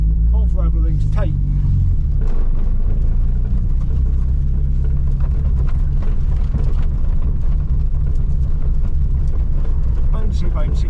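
A Chevrolet Nova on a short test drive gives a loud, steady low engine drone and road rumble that holds throughout, with someone talking over it at the start.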